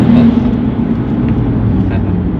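A stage 3 tuned BMW 135i drives through a tunnel, its engine and exhaust giving a steady, loud, booming drone with a low rumble that reverberates off the walls throughout.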